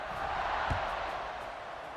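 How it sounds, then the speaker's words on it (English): A stadium crowd in the College Football 26 video game buzzes as a steady, even roar after a touchdown, with a brief low thump partway through. "this crowd is buzzing after that last score"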